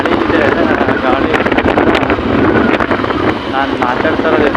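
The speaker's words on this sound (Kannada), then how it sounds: "ಹೊರಗಡೆ ತುಂಬ ಗಾಳಿ ಇದೆ." Strong outdoor wind buffets the microphone in a park with coconut trees, a loud continuous roar with gusty rumble filling the whole clip, while a voice talks faintly underneath.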